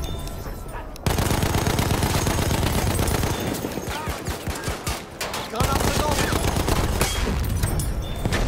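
Rapid machine gun bursts from an MG15 in a World War I online shooter battle, loud fusillades with brief pauses and scattered booms, while a player's voice talks faintly underneath.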